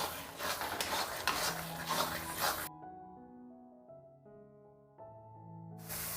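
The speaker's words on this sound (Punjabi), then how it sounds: "ਪੂਰੀ ਤਰ੍ਹਾਂ ਘੋਟ ਲੈਣਾ ਆਪਾਂ ਗਜਰੇਲੇ ਨੂੰ" Carrot halwa (gajrela) is stirred in a kadhai, with scraping and sizzling for a few seconds before music takes over.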